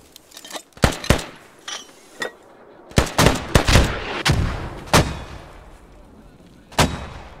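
Mortar rounds firing and exploding on impact in the military shooter game Squad: a series of sharp, heavy booms at irregular intervals, some close and loud, others more distant, with short gaps between blasts.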